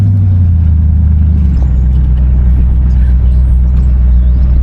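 The 350 V8 of a 1972 Oldsmobile Cutlass Convertible idles and cruises with a steady low rumble, loud and close, its throb settling after a brief drop in pitch.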